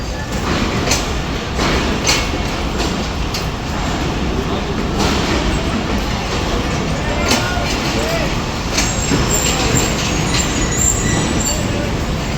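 The Shalimar Express pulls into a station with a loud, continuous rumble of wheels and carriages and faint squeals, while people talk nearby.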